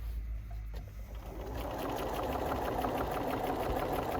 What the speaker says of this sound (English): now I'm going to sew slowly as well. I'm going to start off at the minimum speed now